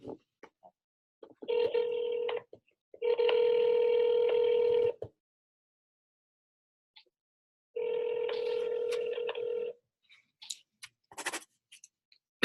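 A telephone call rings out in three long electronic ring tones, the first two close together and the last after a pause, with small clicks and taps around them.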